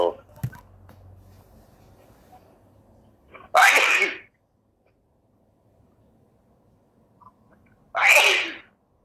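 Two loud, sharp sneezes, one near the middle and one near the end, each standing alone against a quiet indoor background with faint murmuring early on.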